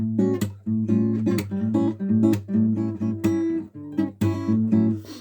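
A solo fingerstyle guitar plays a rhythmic pattern of plucked notes and percussive slaps, with steady bass notes under bright accents, close and clear with no talking.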